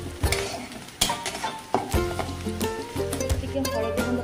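Onions frying in a pan for aloo posto, a loud close sizzle broken by sharp clanks and scrapes of a stirring spoon against the metal at irregular intervals.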